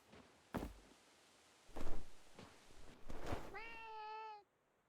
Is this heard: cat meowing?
yes